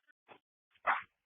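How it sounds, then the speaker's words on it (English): Dogs in a room give a few short, faint barks and yips, with a louder bark at the end, carried over a police radio channel during a SWAT standoff with a barricaded subject. "we are having a hard time hearing him over the dogs barking in the room"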